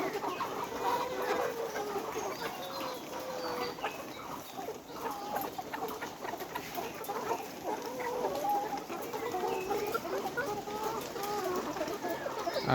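Layer hens on a poultry farm in hot weather cluck and murmur continuously, a dense overlapping chorus of many birds at moderate distance with no talk.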